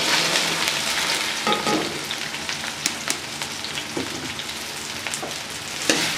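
Okra (bhindi) frying in hot ghee, giving a steady crackling sizzle with scattered pops and occasional stirring scrapes, close and continuous with no talk.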